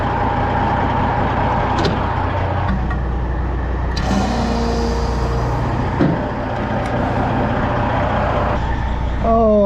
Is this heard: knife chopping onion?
no